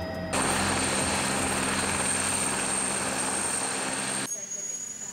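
A police helicopter flies overhead during an urban pursuit in London, its steady rotor and engine roar loud and continuous before cutting off abruptly near the end.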